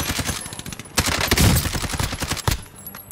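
An AMAX assault rifle fires in Warzone, loud rapid bursts of automatic gunfire with short gaps between them and almost no talk.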